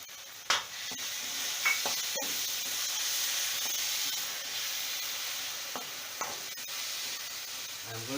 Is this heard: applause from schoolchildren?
no